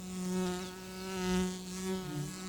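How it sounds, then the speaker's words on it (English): A small wild bee and a honeybee buzz close by in a forest clearing, a steady, loud insect drone that swells and fades with flight, with no voices. "In a clearing, a small wild bee encounters a honeybee."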